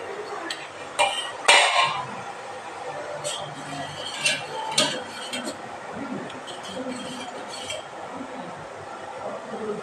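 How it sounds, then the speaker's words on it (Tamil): Kitchen pots and utensils clink and clatter while sambar is reheated, a few sharp metallic knocks early on followed by lighter scattered taps, with someone talking throughout. "இந்த மத்தியானம் சாம்பார் சுட வைக்கிறேன் ஃப்ரெண்ட்ஸ்."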